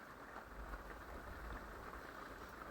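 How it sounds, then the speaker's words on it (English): Rain drums steadily on the metal roof of an RV, a dense, even patter heard from inside, faint overall and continuous throughout with no voices. "One of my favorite things about RV living is when it rains."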